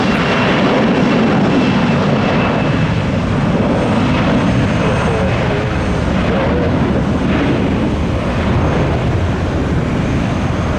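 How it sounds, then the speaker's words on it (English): A Boeing 757 airliner passes close by at an airport, producing a loud, steady jet roar that fills the whole stretch without fading. "Oh, I love my 757s. There goes 596."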